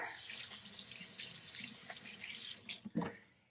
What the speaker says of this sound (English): give my hands a little rinse here